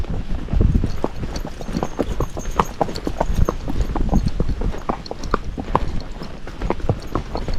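Hooves of a Missouri Fox Trotter horse clop downhill under trees, a close, steady run of uneven beats with soft thuds and scuffs, repeating throughout without speech.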